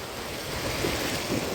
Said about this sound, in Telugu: కొండ చర్యల నుంచి వాటర్ ఎట్లా వస్తుందో సేమ్ చూసుకోండి, ఇక్కడ కనిపిస్తుంది